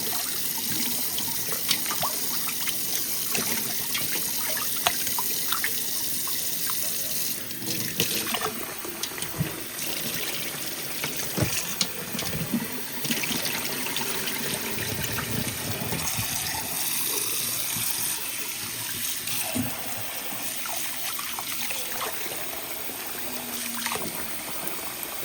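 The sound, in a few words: washing meat under running tap water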